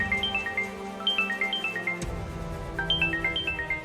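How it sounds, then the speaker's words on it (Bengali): A mobile phone ringtone plays a bright, repeating melodic tune that loops steadily and sounds close and clear, with no voices. "তোমার ফোন বাজছে।"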